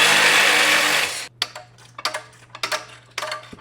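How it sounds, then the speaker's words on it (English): Wrench removing the 14mm and 12mm front exhaust flange bolts behind the secondary catalytic converter on a manual sedan: a hissing burst of noise, then a close run of irregular metallic ratcheting clicks. "we're going to take a 14mm and a 12mm and go ahead and remove the 2 bolts that are holding on the front flange"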